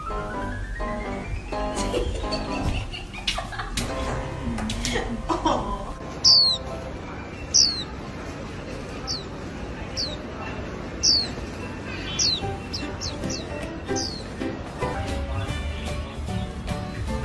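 Several small pet birds chirp in short, sharp tweets scattered through a busy indoor scene, with a person talking over and between the calls.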